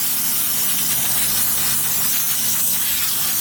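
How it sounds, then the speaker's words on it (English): CarQuest brake parts cleaner sprays in one long, loud, steady hiss onto the brakes of a 2006 Honda Odyssey. The aerosol jet runs close to the microphone without a pause. "It's brake cleaner, brake parts cleaner. I'm going to spray these down."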